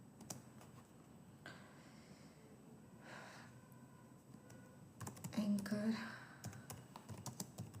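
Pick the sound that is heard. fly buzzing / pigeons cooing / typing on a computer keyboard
typing on a computer keyboard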